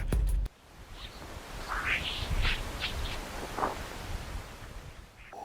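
Sonified meteoroid impacts recorded by the Parker Solar Probe near the Sun: a soft rushing hiss like wind or surf, scattered with brief whooshing chirps, after a short loud burst at the start.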